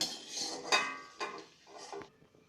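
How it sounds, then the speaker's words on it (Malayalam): Metal utensils clink and clatter in short, uneven bursts while gooseberries (amla) are strained for a homemade nellikka pickle, with a few sharper knocks standing out among softer scraping. "നെല്ലിക്ക മാത്രം ഇതുപോലെ അരിച്ചെടുക്കുക."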